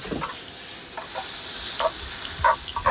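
Beef steak pieces sizzling in a pan at a summer campsite, stirred with a ladle, a steady hiss with several scraping clinks near the end, close and without talk.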